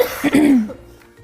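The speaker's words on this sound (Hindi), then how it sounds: "मैंने आपको भी खांसी करा दी है।" A single short cough, close and fairly loud, trailing off into a brief throaty sound.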